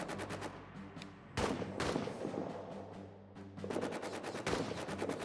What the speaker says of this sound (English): Let's keep hiding from that machine gun